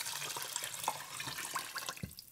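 About 4.5 cups of water pour into a pot of rice for cooking, with a steady, close splashing and gurgling stream lasting the whole moment.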